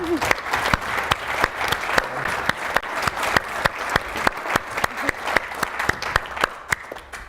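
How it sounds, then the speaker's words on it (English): Steady audience applause at a talk event, dense claps with sharp individual hits standing out, sustained and fairly close for the whole stretch. "I think the video itself deserves a round of applause"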